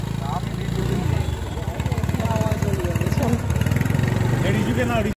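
A motorcycle engine idles in a low, steady, close rumble, with people talking over it nearly the whole time.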